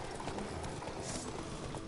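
Horse hooves clip-clop steadily in a video game, a fast rhythmic patter of close hoofbeats running throughout under a busy game soundscape.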